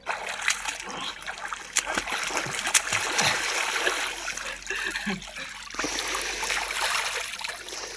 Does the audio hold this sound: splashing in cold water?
yes